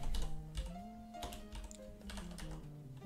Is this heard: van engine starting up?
no